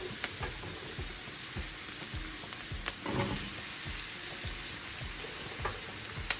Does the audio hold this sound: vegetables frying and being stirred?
yes